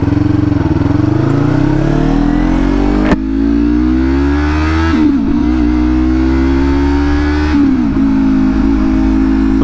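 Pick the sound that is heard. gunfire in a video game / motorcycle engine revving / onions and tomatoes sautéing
motorcycle engine revving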